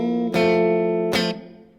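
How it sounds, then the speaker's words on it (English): An electric guitar runs through a Strymon Iridium into a Vox amp, sounding two clean, ringing strummed chords with a little room ambience, the second fading out. "this is just the Iridium into a Vox, and this is what that sounds like"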